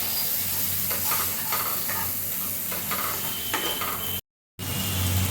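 Chicken liver with coriander powder is stirred in a pan over a dense, continuous sizzle, with light repeated scraping and a short gap of silence near the end.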